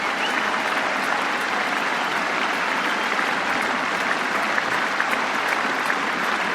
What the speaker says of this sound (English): Everyone standing up and applauding Alistair Cook as he makes his way out to bat for England for the final time. And a huge roar as well.